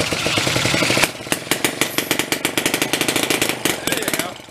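A pre-war Elgin cycle engine, stored at least 45 years in a barn, runs up close with a fast, harsh chatter that settles into distinct, uneven popping firing beats after the first second.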